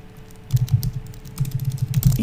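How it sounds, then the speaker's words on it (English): Computer keyboard typing while an email for a new blog post is entered into an autoresponder, heard as quick, uneven bursts of close, crisp key clicks with short pauses between runs. "here I'm just going to type some stuff here"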